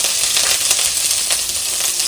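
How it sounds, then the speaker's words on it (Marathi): Paneer pieces fry in hot oil with a continuous, close sizzle and crackle that stays even throughout. "पनीरचे तुकडे तेलात मस्त परतवून घेऊया."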